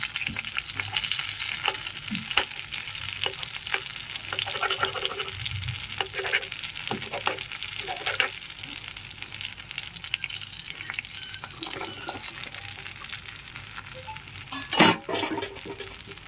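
Capsicum and onion pieces fry in melted butter with a continuous close crackling sizzle, a few faint utensil taps, and a louder scrape and clatter near the end. No voices.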